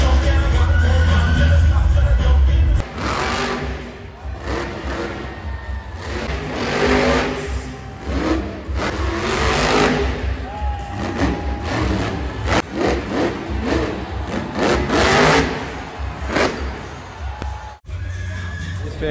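Monster truck engines roar and rev at a Monster Jam arena show, loud and sustained with surging throttle swells over a large echoing crowd din, peaking repeatedly before a brief drop near the end.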